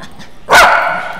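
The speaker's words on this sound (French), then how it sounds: "C'est notre groupe de chiens." A single sharp dog bark at a dog daycare, loud and close, ringing briefly after a quiet moment.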